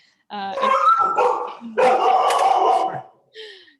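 A dog barks a few times during an online media support call, two sharp, close bursts followed by a short yip, loud and clear with no speech over it.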